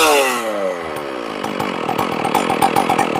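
A ported Stihl 461 chainsaw runs close and loud, burning off assembly oil, its engine dropping from a high rev into a rough, rapid idle.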